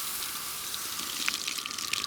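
Water pours and splashes steadily with a soft hiss, with small drips and trickles on top. No voices.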